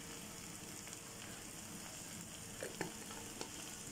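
Spices and masala sauté in oil in a pan for a vegetable kurma, giving a steady, quiet sizzle with a few faint stirring clicks near the end and no talking.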